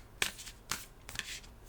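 Wild Soul oracle cards shuffled by hand, three quick riffling bursts spaced about half a second apart, close and fairly quiet with no talking.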